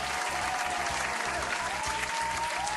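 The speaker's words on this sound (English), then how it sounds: "here's the obligatory birthday applause" A short burst of crowd applause played as a birthday sound effect, steady dense clapping at moderate volume that keeps up evenly throughout without a clear fade.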